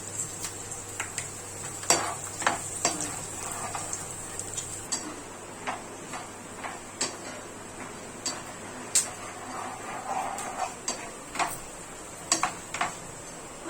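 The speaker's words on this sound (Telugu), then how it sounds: "తర్వాత పచ్చిశనగపప్పు మినపప్పు కూడా వేయించుకోవాలి" Chana dal and urad dal fry in oil for temple-style tamarind rice, a faint steady sizzle under regular metallic taps and clinks of a ladle against the pan.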